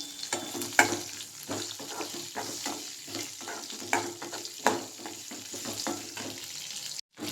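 Onions sautéing in a pan for chayote kuzhambu, a soft continuous sizzle under repeated rhythmic scrapes and taps of a stirring spoon, close by and fairly quiet.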